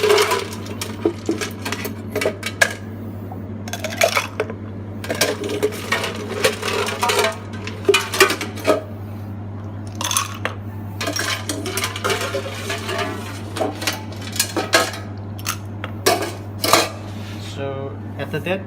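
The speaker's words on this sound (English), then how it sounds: "we refill some ice into the highball glass" Ice refilled into a highball glass behind a bar while a Passion Bloody cocktail is being made: repeated clinks and clatters of cubes against glass and metal in irregular bursts, over a constant low hum.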